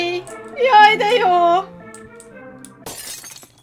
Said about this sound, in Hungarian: Széttört ott valami üveg.